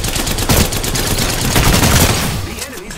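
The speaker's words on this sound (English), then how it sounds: "The enemies are shooting at me" Enemy gunfire in the video game Apex Legends crackles in rapid, sustained bursts of loud automatic shots, close and dense for nearly three seconds before easing off.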